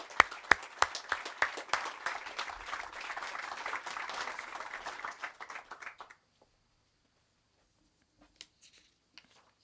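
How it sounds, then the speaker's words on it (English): Applause from the crowd at a ribbon cutting ceremony for a community center, sharp individual claps building to a dense patter for about six seconds, then stopping abruptly, with a few stray claps afterward. "Round of applause for all of you folks"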